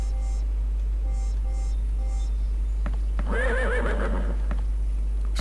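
A horse in a horse riding video game whinnies once, a loud wavering neigh after some light clip-clop hoofbeats, over a steady low hum.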